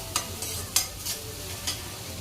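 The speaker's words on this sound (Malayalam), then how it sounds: "ഒരു 3-4 അല്ലി വെളുത്തുള്ളി നന്നായിട്ട് വഴറ്റി അതിനകത്തിലോട്ട് ഒരു ഉള്ളി സവാള ചെറുതായിട്ട് അരിഞ്ഞ് അത് വഴറ്റിക്കൊണ്ടിരിക്കുക" Garlic and finely chopped onion sauté in a pan with a soft background sizzle, punctuated by five short, sharp scraping stirs at irregular intervals.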